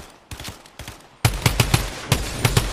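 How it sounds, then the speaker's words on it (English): Gunfire in a shooter video game: a few faint distant shots, then a louder burst of sharp repeated cracks in quick irregular succession, with no talking. "Oh, I'm getting shot!"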